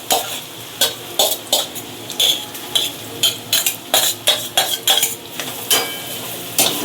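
Garlic frying in a pan for a Konkan-style vegetable dish, stirred with a utensil. Loud, close scraping strokes come in a steady rhythm over a faint sizzle, with no talking.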